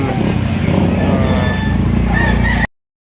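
A rooster at a busy open-air poultry market crows amid a steady din of crowd chatter and nearby engine noise, loud and close, then the sound cuts off abruptly.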